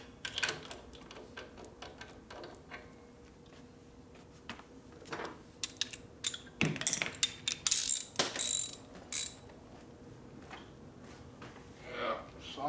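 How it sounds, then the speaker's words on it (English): Ratchet and socket on a riser bolt of a 1957 Harley panhead, giving quiet bursts of rapid clicking in several short runs with pauses and some handling clatter, fairly faint and close. "I'm going to tighten down the riser bolt right here."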